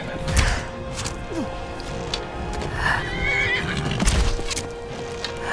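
A horse neighs and whinnies in the video game Skyrim over a steady mechanical background, with a few hoof clops and knocking thuds scattered through.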